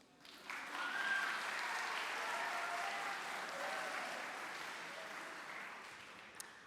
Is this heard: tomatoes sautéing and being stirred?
no